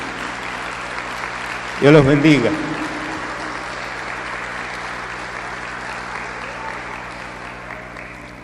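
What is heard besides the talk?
applause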